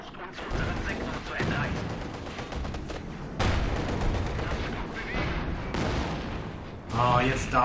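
Gunfire in the World War II strategy game Company of Heroes 2, sustained bursts of rifle and machine-gun fire with heavier booming blasts, loud and continuous as voices talk over the battle.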